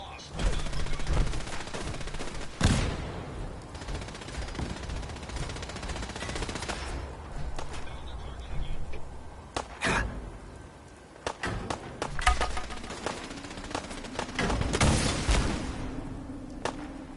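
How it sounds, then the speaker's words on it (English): Rapid bursts of automatic gunfire and single shots crackle through a PS4 video game battle, loud and repeated over a steady game soundscape, with a player's voice talking at times. "Who the hell's shooting?"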